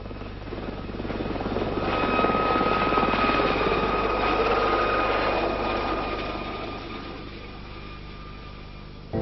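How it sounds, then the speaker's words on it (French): An emergency rescue helicopter in France, its rotor chopping steadily and loudly, swelling as it passes close and then easing slightly toward the end, with no voices. "En cas d'urgence, l'hélicoptère."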